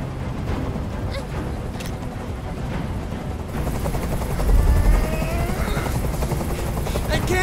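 A video game helicopter's rotor thumps and whirs steadily nearby in Detroit: Become Human, loudness swelling midway as it hovers, with a voice speaking underneath.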